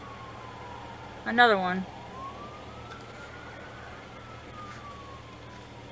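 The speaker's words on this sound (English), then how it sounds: "another fire truck or ambulance" A fire truck siren wails faintly in the distance near a thrift store fire in Hartville, a thin rising and falling tone under steady background rumble, with a voice briefly speaking over it.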